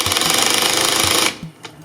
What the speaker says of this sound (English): you are hammering into fiberglass there